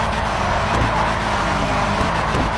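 A drift car's engine in GTA V with a rotary-like tone, a loud, steady, buzzing drone that holds constant throughout with no voices.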